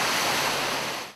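A heavy rainstorm pours down as a dense, loud, continuous broadband roar of rain, fading briefly at the very end.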